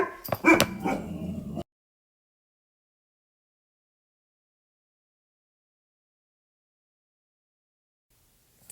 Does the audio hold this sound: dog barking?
yes